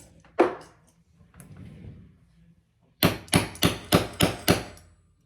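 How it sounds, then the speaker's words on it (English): A hammer strikes a clutch purse frame six times in steady rhythm, loud sharp close blows, preceded by one earlier knock and a soft rustle of handling. "Let me grab my hammer."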